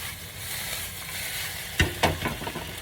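Onions fry in a pan over a flame, giving a soft, steady sizzle near the mic, broken by a couple of sharper clatters as they are stirred.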